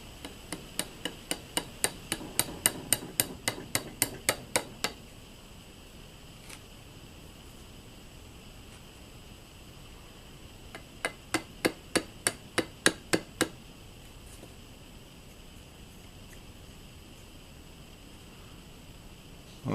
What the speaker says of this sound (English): 5C collet holder in the vise and just file that nice and flat